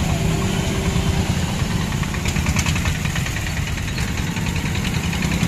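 A vehicle engine idles at Kamla bridge in Jaynagar, India, with a steady, close, continuous rumble and a faint knocking pulse, and no voices.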